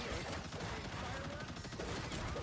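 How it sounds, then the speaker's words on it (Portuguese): Dense, continuous rapid fire from a turret in the Marvel Rivals hero shooter, a steady rattling barrage mixed with mechanical clatter and game effects, loud and unbroken throughout. "O cara tá na torreta ali."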